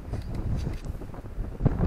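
Strong outdoor wind buffets the microphone in steady low rumbling gusts, with brief louder blasts, while work continues on a Woody camper bed rebuild and shower project.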